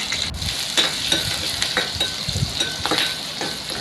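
Curry leaves crackle and sizzle in hot oil for a stingray curry, a loud, close frying hiss with an uneven patter of pops and steady stirring.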